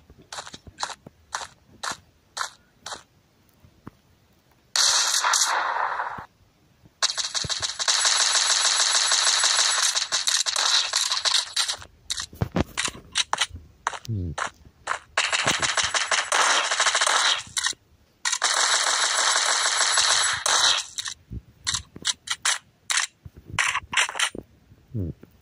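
Machine pistol gunfire in the SSB2 deathmatch game, heard as long sustained automatic bursts interrupted by clusters of sharp single clicks and short gaps, loud and harsh with no talking.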